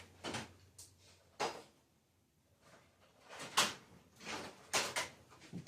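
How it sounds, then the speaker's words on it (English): Small wiring drawers in a workshop are pulled open and rummaged through, a series of quiet clacks, slides and rattles of parts spaced irregularly, faint and without speech. "I'm just checking to see over here real quick in our little wiring drawers"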